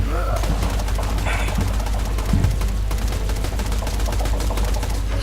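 Rapid, dense gunfire from the video game Borderlands 2 rattles continuously at close range, with bursts layered over constant game noise and a voice talking over the shooting.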